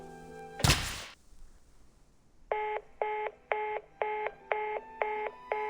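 Single thump followed by a steady series of evenly spaced telephone dialing tones, eight clear beeps with short gaps, from the Reverse 1999 video game, heard alone without talk.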